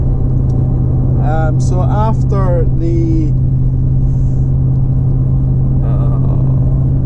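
A personal car rumbles from inside the cabin while driving, a loud, steady low drone with someone talking briefly over it.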